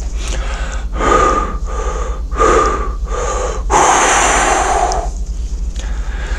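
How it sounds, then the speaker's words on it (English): Deep breathing done as a demonstration: four loud rhythmic breaths at close range, then one longer forced exhale pushing out extra air, followed by quiet. "on our third normal breath, we'll take an extra breath out"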